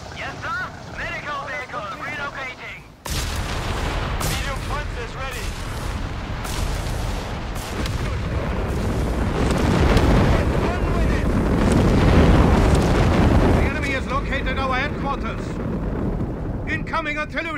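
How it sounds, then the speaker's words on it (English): Heavy artillery strike explosions in the video game Company of Heroes 3 at El Alamein in North Africa, a dense sustained roar of blasts and rumble lasting most of the stretch, with voices shouting over the battle before and after. "Artillery strike!"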